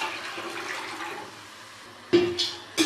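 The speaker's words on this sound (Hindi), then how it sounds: "अब इसमें मैं पानी शामिल करूँगी।" Water is poured into a kadhai holding chana dal, a soft splashing pour with a few sharper sloshing bursts near the end, close and fairly quiet.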